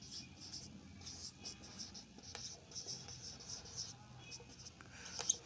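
Chalk or marker scratches across a board in short strokes and taps, faint and close, with quiet murmuring in the background.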